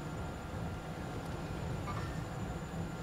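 Steady rail rumble from a train in the Warzone video game, a constant rolling drone with a faint metallic edge that stays even for the whole stretch, with no talking over it.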